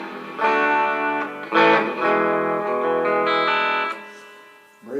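Distorted electric guitar chords through an Epiphone Valve Jr. amp ring out with a wash of reverb, several strummed hits sustaining and fading, loud and alone.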